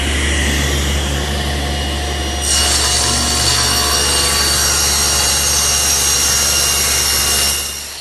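A table saw with a squaring sled runs steadily, then bites into an oak panel with a loud, bright cutting whine for several seconds before the blade exits and the tone drops back.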